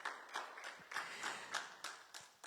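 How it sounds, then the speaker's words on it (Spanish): A church congregation claps together at a Spanish-language service, a fairly faint, sparse run of hand claps in uneven bursts, with no voices over it. "¿No le quiere dar un aplauso al Señor por esa verdad?"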